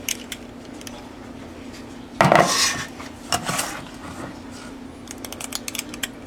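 A scoop clinks and taps against a metal cupcake pan while yellow cupcake batter is portioned into the cups, giving one louder scrape-and-clatter and then lighter scattered knocks, close up and without speech.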